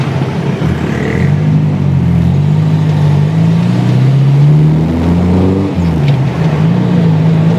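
A 1987 Suzuki Katana Jimny long-chassis with a 1000 cc engine and AT tyres cruises on a toll road, its engine drone loud and steady from inside the cabin, rising and falling slightly in pitch, with constant road and wind noise.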